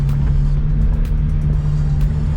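A BMW E92 335i with a twin-turbo N54 engine idles with a loud, steady low drone, a faint metallic wastegate rattle buzzing within the close engine hum and no talking.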